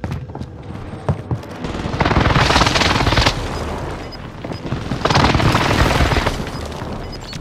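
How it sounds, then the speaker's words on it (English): Airstrike explosions in Call of Duty Warzone Pacific on Fortune's Keep land as two long, heavy rumbling barrages of booms and crackling blasts, each lasting about a second or more, loud and close. "Mark target for airstrike. This is Phoenix 3. Strike inbound."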